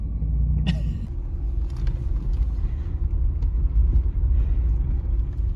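A Subaru WRX S4 produces a steady low road rumble from inside the cabin while driving, with a faint tonal hum and a brief higher whine near the start.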